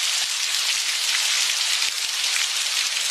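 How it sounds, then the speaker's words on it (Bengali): Heavy rain pours down steadily in a jungle storm, a dense even hiss of drops with occasional soft low thumps, continuous and fairly close, no voices present. "বৃষ্টি এতটাই জোরে পড়ছিল"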